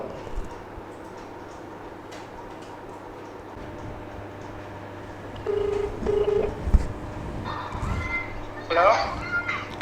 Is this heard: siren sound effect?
no